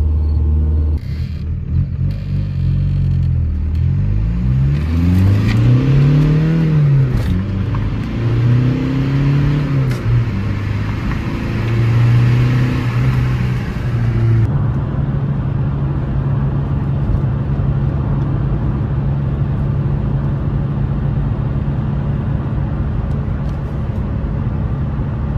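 Volkswagen Golf 4 with a 1.9 TDI diesel engine, heard from inside while reversing: a loud, close engine drone rising and falling with revs, then settling to a steady running rumble.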